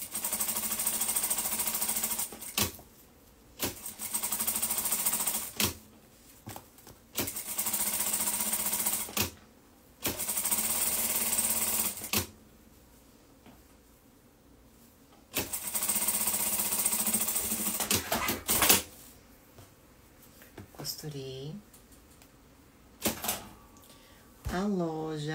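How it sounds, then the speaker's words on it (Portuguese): A sewing machine backstitches and sews a kitchen mitt in several loud, close bursts of rapid rhythmic stitching separated by pauses, with people talking in between. "Vou dar retrocesso e vou fazer a costura."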